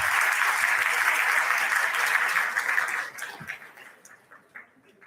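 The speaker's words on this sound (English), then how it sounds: "please put a huge round of applause for Goenka Research Institute of Dental Sciences" An audience at the 5th World Dental Sciences and Oral Health Conference breaks into loud, sustained clapping that holds steady for a few seconds, then thins into scattered claps and fades out.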